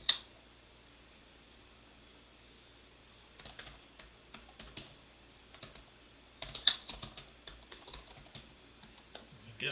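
Typing on a computer keyboard, a burst of quick soft key clicks after an opening tap, then a pause and another irregular run of keystrokes, close and fairly quiet with no voice.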